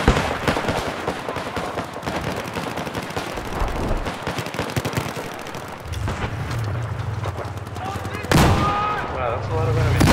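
Battlefield 4 gameplay on the Guilin Peaks map with continuous rapid gunfire, dense bursts and overlapping shots of a large firefight, joined near the end by a louder blast and a low rumbling hum.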